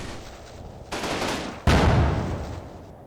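Medium machine gun fire in the Combat Mission Final Blitzkrieg video game, heard as two sustained loud bursts of gunfire one after the other over a steady background hiss.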